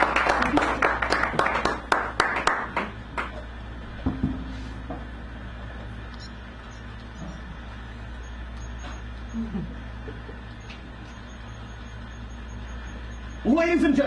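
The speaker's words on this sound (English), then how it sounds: "Give him a big round of applause" An audience at a poetry night in a San Francisco café claps for a few seconds, a burst of close, scattered applause that fades into low room chatter, with a voice speaking over the hall.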